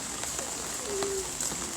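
Rain falling outdoors at the Soseong-ri THAAD protest site, a steady soft hiss of drops with a brief faint whine partway through.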